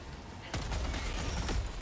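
Gunfire in a video game as a player shoots at a monster's leg, a sudden loud burst of rapid shots after a quiet start, continuing with a few sharper cracks.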